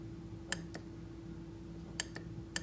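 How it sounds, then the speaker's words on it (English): Solenoid valve from an Aprilaire humidifier, energized by a 9-volt battery, giving a few sharp, faint clicks in quick pairs over a steady low electrical hum. "That is the sound of a working unstuck solenoid."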